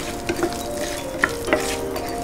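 Asafoetida and green chillies sizzling in hot oil while being stirred, a steady low frying hiss with a few faint spoon taps and no talking.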